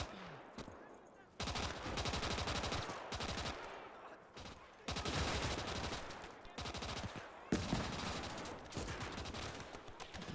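An AVT-40 rifle fires in rapid automatic bursts during a Gates of Hell city battle, loud repeated cracks in long stretches with brief pauses between.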